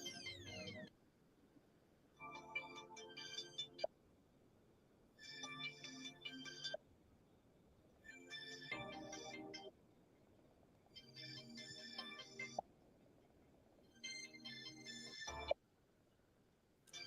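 Phone ringback tone on an outgoing call, repeated electronic ring bursts with pauses between them, regular and clear, about six rings in a row.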